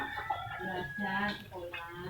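A sick chicken suffering from snoring disease makes harsh rattling, croaky breathing sounds at close range, with a continuous raspy layer throughout.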